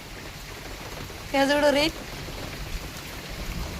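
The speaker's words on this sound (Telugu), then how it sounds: "మరి వానదేవుడేమో ఆగేటట్టు లేదు, ఇంకా వస్తూనే ఉంది." Heavy rain pouring down in a residential colony, a steady broadband wash of falling water with no breaks, interrupted once by a short spoken word.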